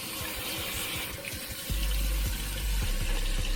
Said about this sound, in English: But you guys, here is the faucet.